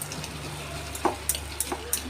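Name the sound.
stirring cut potatoes frying with tomatoes in a pan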